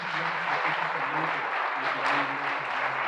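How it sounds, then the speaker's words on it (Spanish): Congregation in a church applauding together, a steady wash of clapping with a low sustained tone underneath, continuous and fairly loud throughout. "Dale un aplauso al Señor."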